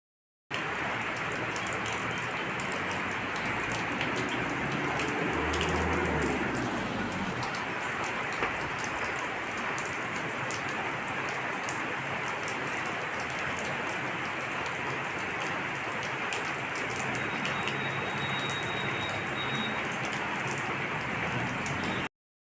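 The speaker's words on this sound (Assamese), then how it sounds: "এয়া বৰষুণ দি আছে" Steady rain falls outdoors on a school-day morning in Assam, a dense continuous patter of drops on surfaces that holds evenly for over twenty seconds with no voices.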